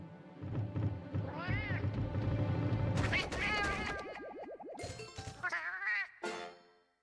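A Felyne cat in Monster Hunter Freedom Unite meows in short, high, chirpy cartoon calls with some chimes and clangs from the game, fairly loud up close, with a person talking over parts of it.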